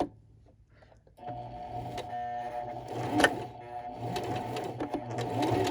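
Domestic sewing machine stitching along the edge of a fabric gift bag, a quiet start followed by a steady mechanical whirring rattle that runs continuously at close range.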